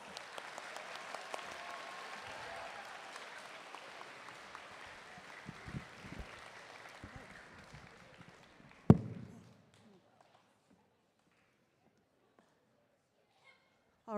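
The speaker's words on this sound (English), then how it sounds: "Everyone, again, let's give them a big round of applause." Students at a school MLK assembly applaud in a large echoing hall, a soft sustained wash of clapping with thumps and footsteps that fades out after about nine seconds, followed by near silence.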